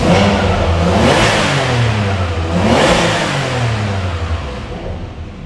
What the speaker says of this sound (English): Great, great sounding car. Hard to beat a Italian V12, that is for sure.